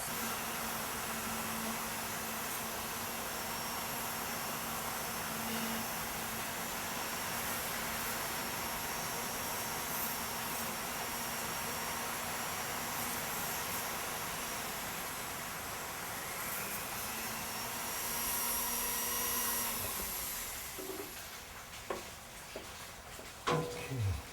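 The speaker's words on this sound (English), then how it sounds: "What I'll be doing is polishing it. I use beeswax." Coconut jewellery is polished with beeswax under a steady, loud motorized whir that runs unbroken, then cuts off near the end, leaving a few sharp clicks and handling knocks.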